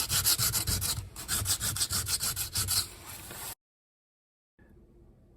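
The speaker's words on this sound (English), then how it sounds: "just sand off all of those hard edges that are sticking out before" Hand sanding the hard, dried edges of a plaster patch on an interior wall, a close, steady back-and-forth rasping in quick rhythmic strokes that stops abruptly into silence.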